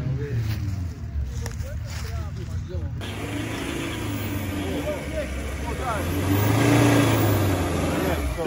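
An off-road car engine revs hard at full throttle on a trail outing, a continuous mid-pitched roar that climbs toward a louder peak near the end, with voices talking over it.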